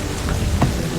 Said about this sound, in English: The storm is bowing.